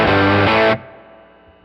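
Fender Hot Rod Deluxe IV guitar amp on its clean channel, volume cranked to ten: a loud, full chord rings, is re-struck once, then cuts off abruptly, leaving a faint decaying tail and low amp hum.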